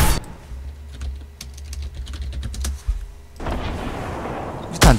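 Fortnite grenade launcher fire: a run of sharp, rapid clicks and thuds over low rumbling booms, then a louder blast of noisy explosion wash, with a final sharp hit at the end.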